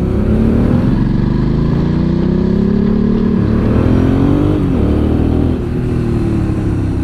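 A Ducati Monster motorcycle engine revs loudly while riding, its note rising and falling through the gears with a brief dip near the end, close and continuous with no talk.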